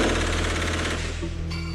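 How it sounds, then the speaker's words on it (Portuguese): Rapid automatic rifle fire rattles in a continuous loud burst, close by, with the shots blurring together before cutting off. "esse tipo de fuzil tanto pode ser usado em rajadas"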